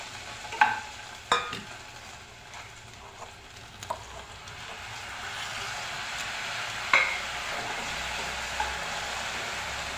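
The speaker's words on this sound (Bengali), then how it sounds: "এখন আমি মশলাগুলো মিলিয়ে দিচ্ছি।" Green chillies being mixed with spices in a bowl for a pickle give a quiet run of scraping and tapping, with a few sharper clicks early on and a soft, steady hiss throughout.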